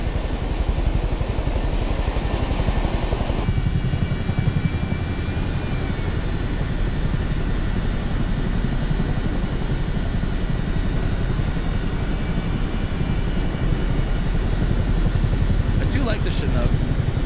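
A CH-47D Chinook twin-rotor helicopter flies in the MSFS 2024 simulator, a steady loud rotor and turbine roar with a faint whine running throughout, while someone talks over it.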